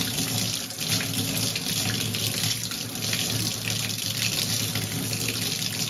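Warm water runs steadily from a tap while chalk paint brushes are rinsed by hand, a continuous close hiss and splash that keeps an even loudness throughout with no talk.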